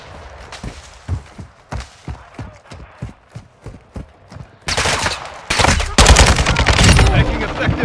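Gunfire in Call of Duty Warzone DMZ: a steady string of sharp single shots, then heavy sustained bursts of automatic fire growing louder and denser, with faint game radio chatter underneath.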